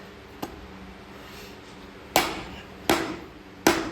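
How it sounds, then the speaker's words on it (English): Four hammer strikes on metal, one light then three heavier blows about a second apart, each ringing briefly over a faint background hum, during work on a Super Duty Dana 60 axle. "The Harbor Freight hammer's holding on for dear life."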